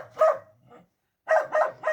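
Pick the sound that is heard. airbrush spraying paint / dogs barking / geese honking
dogs barking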